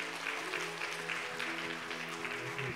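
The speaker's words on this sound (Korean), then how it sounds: "큰 박수를 격려하고 시작하겠습니다" A room full of people claps in sustained, even applause at a church or community gathering, dense and continuous for the whole stretch.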